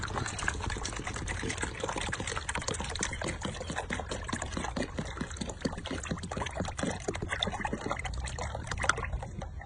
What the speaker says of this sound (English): I take this bubble solution and I fill it up